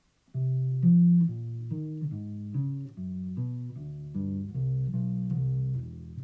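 Walking bass line for the first A section of a second chorus in jazz style, with chromatic approaches: a steady stream of deep, round bass notes moving stepwise at an even quarter-note pace, played solo with no talking.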